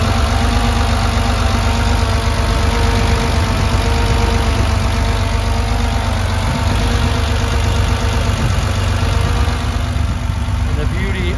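Rear-mounted engine of a 1974 Porsche 911 Targa idling with the engine cover open, a close, steady mechanical whir and low rumble with faint ticking, continuous and unbroken.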